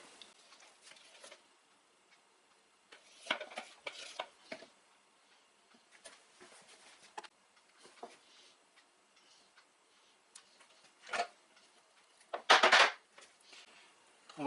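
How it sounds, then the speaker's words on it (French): About 60 grams of sourdough starter being moved into a jar: faint, scattered clinks, taps and soft scrapes of a utensil against glass, spaced out across a quiet room, with a couple of louder knocks near the end. "je vais retransvaser mes 60 grammes actuels de levain dans le bocal"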